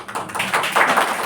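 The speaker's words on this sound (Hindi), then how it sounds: "इसलिए बीच बीच में ताली बजाओ" Audience clapping at a Brahma Kumaris spiritual gathering, a scattered, uneven patter of hands that thickens into a steady burst over about a second, with no talk.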